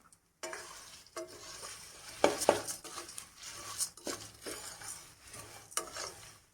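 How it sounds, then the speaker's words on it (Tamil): Puffed rice being dry-roasted and stirred in a pan for a spicy snack, giving a steady crisp rustling scrape with light clinks of the pan and spoon, close and moderately loud, with no talking. "பொரியை போட்டு ஒரு நிமிஷம் வறுத்து ஆஃப் பண்ணிடலாம்"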